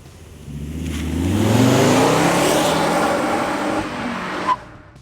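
A 2009 Volvo C30 T5's five-cylinder engine revs up hard and holds a high, buzzing roar for a few seconds, then eases off with a brief blip at the end.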